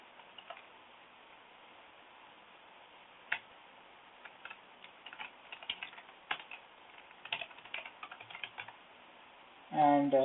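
Fingers tap on a computer keyboard in quick, scattered bursts of light clicks, faint and close, with a brief sound cutting in at the very end.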